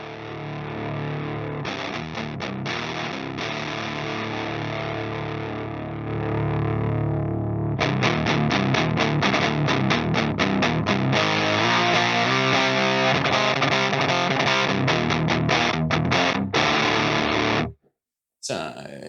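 Electric guitar played through a Behringer HM300 distortion pedal, starting with sustained crunchy chords, then the full heavy distorted tone switches in for loud, dense strummed and chugging riffs before cutting to near silence at the end.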